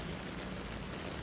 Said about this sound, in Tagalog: Ayan guys, tuloy-tuloy ang ulan.